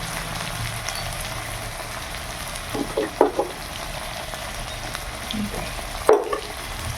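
Fig curry with onion paste and salt fries in a pan, giving a steady rain-like sizzle with a few brief bursts of stirring and scraping.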